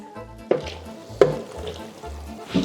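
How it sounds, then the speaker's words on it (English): Pasta sauce poured into a hot pan for amatriciana and stirred in, with a few sharp scraping and stirring knocks over a low background of sizzling and cooking noise. "I add our sauce, so we'll put in about half and we'll mix that in"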